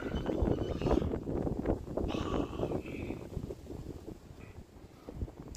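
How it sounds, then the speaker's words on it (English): Gusty outdoor wind buffets the microphone in a Las Vegas park, a steady broadband rush with stronger bursts early on and a brief voice-like sound near the start. "It's like way windy over here."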